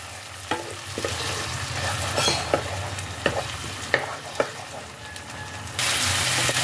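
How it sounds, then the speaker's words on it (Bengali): Tomato paste from two small tomatoes being stirred and fried in a pan for dhaba-style matar paneer, a steady sizzle broken by sharp scrapes and knocks of the spoon, growing louder toward the end. "টমেটো পেস্টটা দিয়েও এটাকে ভালোভাবে কষাতে হবে।"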